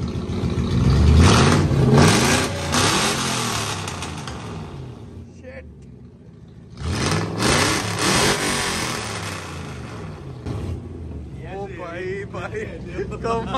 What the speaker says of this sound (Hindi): साउंड चेक करें गाड़ी का यार, स्ट्रेट पाइप है।